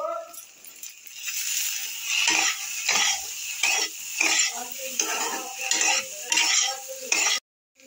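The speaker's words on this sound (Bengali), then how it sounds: "নুন দিয়ে আর একটু নেড়ে নিই" A spoon stirs cauliflower curry in a pan after salt goes in, with repeated scraping strokes over a soft sizzle, close and rhythmic, stopping abruptly at the end.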